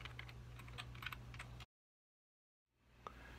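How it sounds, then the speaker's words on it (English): Password being typed on a computer keyboard during a Mac Pro 1,1 firmware update, a quiet patter of light key clicks over low hum, then a second of silence before faint room noise returns with a single click. "type in our password."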